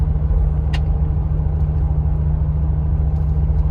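A 2014 Mercedes G550 engine while driving, a steady low rumbling drone with road noise, loud and continuous from inside the cabin, with a brief high squeak early on and no talk.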